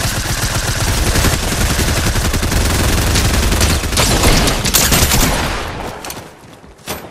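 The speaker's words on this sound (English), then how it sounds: "And we're still getting shot at." Rapid bursts of automatic gunfire in Fortnite's zero-build battle royale duos mode, loud and dense shots overlapping continuously for several seconds before tapering off into quieter scattered fire.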